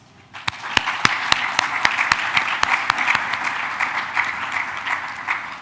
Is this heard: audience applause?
yes